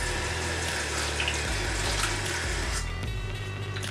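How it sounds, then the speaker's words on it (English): Water runs steadily from a tap, a continuous close splashing rush with a low hum underneath, no voices. "I'm gonna add a little water"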